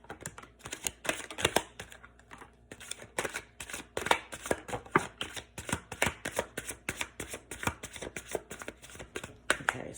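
Tarot cards shuffled by hand, a rapid run of crisp riffling snaps and soft slaps repeating in quick bursts, close and fairly quiet with no talk.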